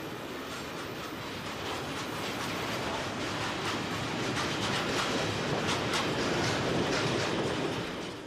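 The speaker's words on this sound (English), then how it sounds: "This is wagon load freight par excellence, with a typical mixture of containers, tank wagons and vans." A freight train of containers, tank wagons and vans rolls past on the single-track Tessenderlo branch, a close, loud, sustained rumble with rhythmic wheel clatter building slightly before easing at the end.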